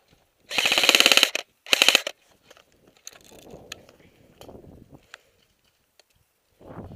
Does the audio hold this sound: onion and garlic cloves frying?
no